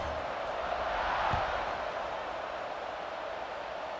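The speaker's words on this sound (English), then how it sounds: "this crowd is buzzing after that last score" A stadium crowd in the EA Sports College Football 26 video game keeps up a steady, dense roar of buzzing noise at an even level throughout, with no clear individual voices standing out.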